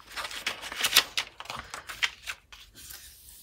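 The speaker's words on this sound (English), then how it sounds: "bone folder just to burnish this down" A bone folder rubs firmly along the fold of a paper bag in quick, scratchy, rhythmic strokes that fade out near the end, heard close up with no speech.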